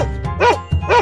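A dog barks in a kids' animal sound sequence, with two bright yips followed by a short bark and another yip, loud and close with no talking.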